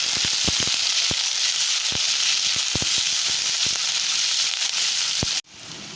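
Onions, green chilies and curry leaves frying for a potato thoran, a loud close sizzle with scattered sharp crackles and pops from stirring, cutting off abruptly near the end.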